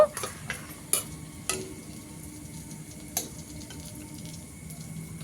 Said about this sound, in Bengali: এগুলোকে নামিয়ে নিয়ে আবারও কিন্তু সবকটাকে এভাবে ভেজে নেব